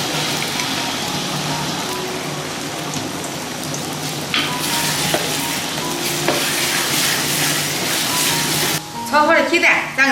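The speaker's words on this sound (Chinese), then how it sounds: "炒点鸡蛋" Eggs are stir-fried in a hot pan on a rainy day, making a loud, steady sizzle with bursts of scraping and stirring that cut off abruptly near the end.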